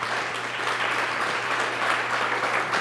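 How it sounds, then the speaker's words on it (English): Steady audience applause at a forum event, a dense, even wash of clapping from a seated crowd that holds at constant loudness without pause. "Give Emilio a round of applause"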